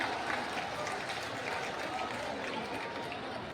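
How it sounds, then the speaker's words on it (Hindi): A large crowd at a Prime Minister's rally in Madhubani applauds in a dense, steady clatter of clapping, loud and continuous throughout, fading only slightly at the close. "माननीय जोरदार तालियों के साथ हम अभिवादन करें आदरणीय प्रधानमंत्री जी का"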